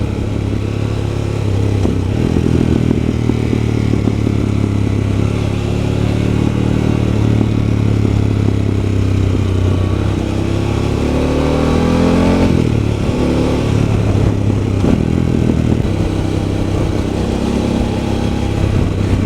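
A Harley-Davidson Pan America adventure motorcycle on Pirelli Scorpion Rally STR tyres rides a wide gravel road, its engine droning loud and continuous with gear shifts and tyre crunch over loose stones.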